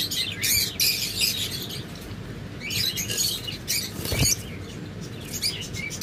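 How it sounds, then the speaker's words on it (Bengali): A breeding pair of lovebirds in a cage chirps and tweets in sharp, high bursts against a steady rustling, pattering background. No one speaks. "master pair lovebird"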